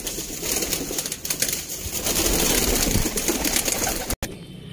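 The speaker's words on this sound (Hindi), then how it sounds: "देखो है रिंग वाला कबूतर," Ring pigeons cooing at a bird market, soft repeated coos close by over a busy, noisy background, with no speech.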